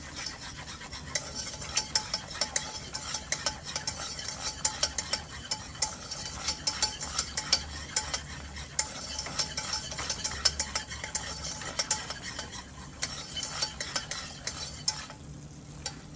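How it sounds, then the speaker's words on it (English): Whisk scraping steadily through a roasted garlic cheese sauce in a pot on low heat, a continuous rapid metallic rasping with frequent clinks against the pot, close and loud, with no talking. "Whisk that together."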